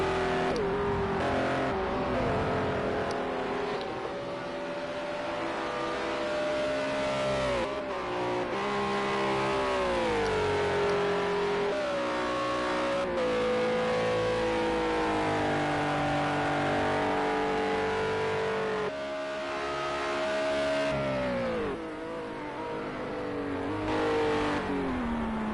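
Race cars in a World Series by Renault race at Sakitto GP, engines screaming continuously at high revs, pitch rising and falling through gear changes and passes, loud and steady with no talk.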